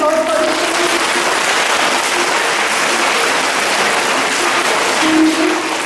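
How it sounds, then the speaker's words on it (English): A school audience applauds for a quiz team at a Founder's Day event, steady broadband clapping filling the whole stretch at a fairly loud level, with faint voices in the background. "Let's give this huge round of applause"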